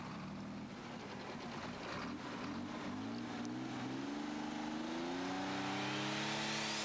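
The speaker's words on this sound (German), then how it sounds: "John Deere Motoren" A pulling tractor fitted with John Deere diesel engines and a three-speed transmission roars down the track at a 1997 tractor pulling event in Herning, its engine pitch climbing steadily as it accelerates, loud and continuous.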